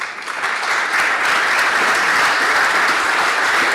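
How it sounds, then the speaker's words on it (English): An audience at a European political leaders' panel session in Hungary breaks into dense, steady applause for the panelists, loud and continuous with no talk over it. "Please give a round of applause to our panelists."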